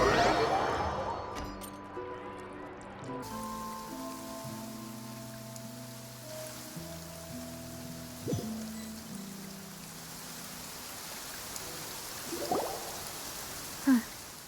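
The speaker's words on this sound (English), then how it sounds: "It's been raining non-stop for a few days now." Steady rain falls in the Genshin Impact video game near Poisson in Fontaine, a constant even hiss that runs throughout beneath soft sustained music tones, with a couple of brief louder splashes near the end.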